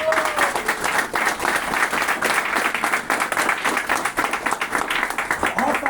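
A seminar audience applauds at a marketing presentation, with many close, distinct hand claps forming a lively, slightly uneven patter that continues for several seconds.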